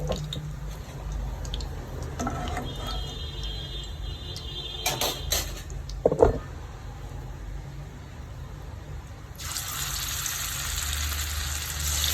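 Anchovies (nethili) fry in hot oil with a steady sizzle, broken midway by a few sharp clatters and splatters, then the hiss swells louder and brighter near the end.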